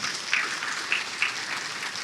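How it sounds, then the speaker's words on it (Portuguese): Congregation applauding at a church sermon, a steady wash of clapping with a few sharper claps standing out, moderately distant and fairly quiet throughout. "Dê o mais forte aplauso que vocês podem"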